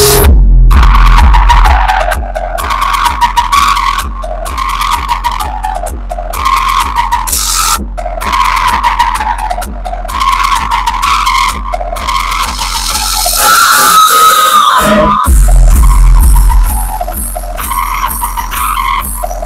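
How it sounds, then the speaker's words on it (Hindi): Loud music from an aftermarket sound system in a Hyundai Venue, heavy thumping bass beats with bright synth and vocal layers, played close and powerfully inside the car with brief drops between sections. "चलो तो भाई एक बार सिस्टम सुनते हैं गाड़ी का"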